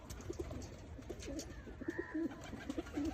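Teddy pigeons coo softly and repeatedly in low, throaty phrases over a quiet background hum, several calls overlapping at close range.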